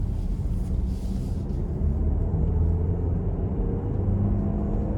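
A 2025 Buick Envision Preferred 2.0T in all-wheel drive merges onto an interstate under acceleration. From inside the cabin it comes across as a steady, loud low rumble of engine and road noise that builds slightly toward the end.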